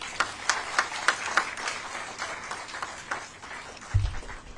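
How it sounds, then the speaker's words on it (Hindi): An audience claps at a Hindi book launch event for Rakesh Shukla's book: steady, rhythmic clapping in unison at a fairly even beat, with a low thump at the very end. "तालियां रुकनी नहीं चाहिए"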